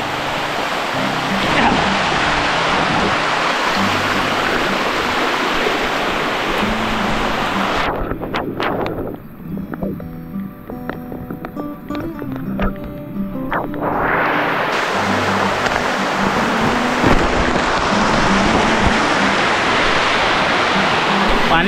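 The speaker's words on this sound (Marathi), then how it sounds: "नदीत पाणी खूप आहे" Heavy river current runs as a loud, steady broadband rush, easing briefly midway before swelling back to full force; voices talk faintly underneath.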